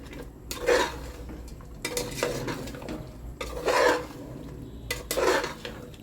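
A spoon stirs ground cashew, fried onion and spice paste into mutton in a pot, making four loud scraping, clattering strokes against the metal over a faint sizzle, with no voice.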